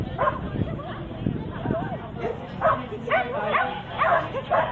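At an agility competition, a small dog yips and barks excitedly in short repeated calls over a murmuring crowd and background chatter.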